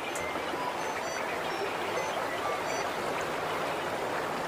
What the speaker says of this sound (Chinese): 潭流的低吟浅唱